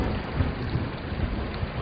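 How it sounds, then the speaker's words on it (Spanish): Thunder in a radio drama storm effect rumbles low and continuous under steady heavy rain hiss, dense and loud throughout with no speech. "un rayo, sí, dentro de esta tormenta en la que estamos inmersos"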